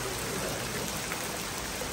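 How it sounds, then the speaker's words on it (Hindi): Heavy rain pouring steadily in the hills near Murree, a dense close hiss of drops on surfaces with no talking. "बारिश शुरू हो गई है, फुल तेज बारिश, फुल तेज"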